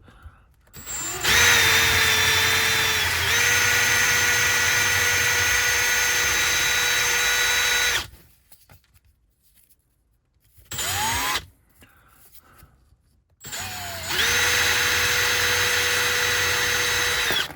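Power tool whirring loudly as it cleans the wheel of a Tri-ang Hornby Class 3F 'Jinty' model locomotive, running steadily in three bursts separated by short pauses, close and alone without talk.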